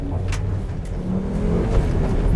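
A Volvo S60 rally recce car engine revs and roars continuously nearby, the pitch rising and falling with throttle changes, loud and steady throughout.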